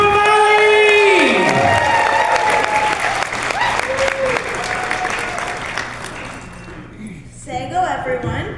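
Applause and cheering sweep through a conference audience at a women's event, full and sustained at first while an announcer speaks over it, then tapering off.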